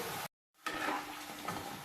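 Ras bara lentil fritters frying in hot oil until reddish, a steady close sizzle that breaks off briefly, then resumes and continues evenly.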